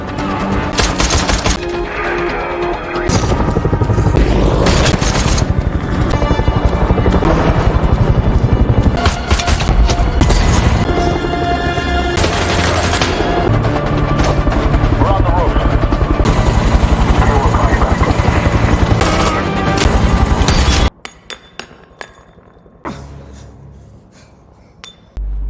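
Helicopter with a sniper firing from it during an action film chase, a dense loud roar with sharp impacts and clinks running almost continuously, then cutting off abruptly near the end to a quieter stretch; voices mix in.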